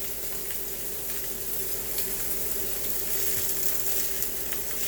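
A tri tip steak searing hard in a hot pan, a steady broad sizzle and spatter holding at an even, fairly loud level throughout with no one speaking.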